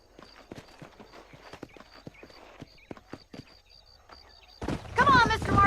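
Horse hooves clip-clop steadily in Red Dead Redemption on Xbox 360, a rhythmic series of close hoofbeats under quiet background tones, ending in a louder burst of noisy sound.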